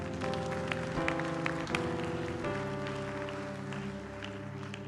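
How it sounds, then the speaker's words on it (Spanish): A church congregation applauds during a pastor's sermon with scattered clapping under sustained organ-like music that continues throughout at moderate volume. "Den un aplauso a Jesús"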